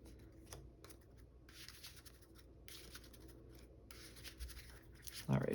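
Playing cards for the Marvel Champions card game are shuffled close by on a table, soft papery riffles and rubbing in short bursts, fairly quiet, with a louder knock near the end.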